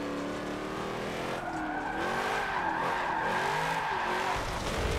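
In Forza Motorsport 7, a car drifts at full throttle with its rear tyres spinning, a sustained engine roar whose pitch sweeps up and down beneath a constant screeching tyre squeal.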